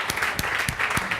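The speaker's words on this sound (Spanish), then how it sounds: "Muchas gracias por los aplausos." An audience at a talk on what it means to be liberal claps steadily, a short dense burst of applause with no voices over it.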